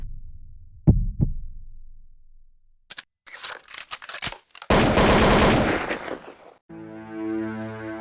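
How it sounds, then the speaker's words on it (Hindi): A couple of low thumps, then loud, rapid bursts of machine-gun fire, ending with a sustained musical tone. "अपनी सर्विस गन से उन पर अंधाधुंध 30 से ज़्यादा गोलियां बरसा दी।"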